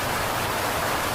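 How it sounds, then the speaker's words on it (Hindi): Steady, dense rain pours continuously on a dark night in a village, a loud, even hiss with no break or voices. "लगातार बारिश हो रही थी।"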